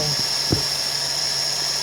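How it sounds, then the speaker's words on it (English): An electric drill spins the square end of a power seat cable on a Mercedes W124, giving a steady, close, high-pitched whine with a faint knock partway through. "spin the drill up, and there's moving it"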